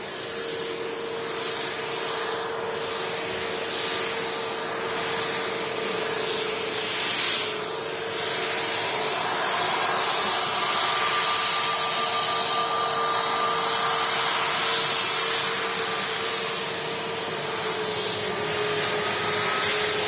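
An EasyJet Airbus A320neo with sharklets is arriving at Manchester Airport from Alicante. Its jet roar holds steady and broad throughout, a distant, even rush with a faint whine on top and no voices.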